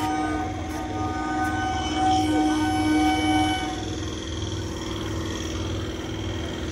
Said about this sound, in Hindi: दोनों तरफ की ट्रेन जो है एक ही साथ जो है आई है।